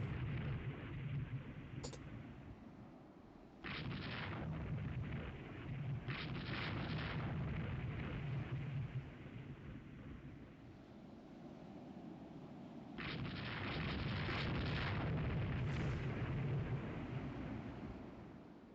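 Naval gunfire and shell explosions from the warship game Rule the Waves 3 roll out as heavy, booming blasts with long rumbling tails, arriving in several distinct bursts at moderate distance, layered and sustained with no voices.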